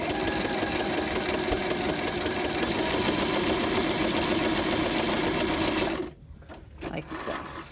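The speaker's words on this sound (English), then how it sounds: "I'm going to take my machine and set it to its longest stitch." A home sewing machine set to its longest stitch runs steadily and loudly across fabric for about six seconds with a fast, even mechanical chatter, then stops, leaving brief quieter handling sounds.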